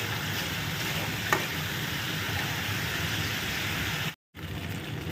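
Spice paste for dal frying in oil in a pan gives a dense, continuous sizzle at moderate level, broken by a brief silent gap near the end before resuming.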